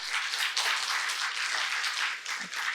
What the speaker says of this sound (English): Round of applause. Come on, louder.